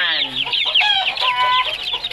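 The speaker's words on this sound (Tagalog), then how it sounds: "Maingay yung mga manok." Noisy flock of backyard chickens clucking and squawking close by, many birds overlapping in a dense, continuous chatter with sharp rising calls.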